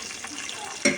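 Cashew nuts sizzle in hot oil in a pan with a steady, even hiss, ending in a short clatter as they are stirred.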